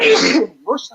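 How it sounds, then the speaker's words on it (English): A single loud, breathy sneeze bursting out at once, followed by a short spoken word close to the mic. "I'm about to have a sneezing fit."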